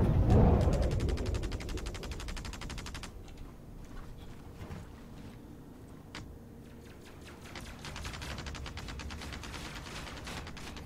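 Rapid, continuous gunfire from a ship in a space combat video game, a dense rattling stream that thins and resumes, with scattered mechanical clicks between bursts.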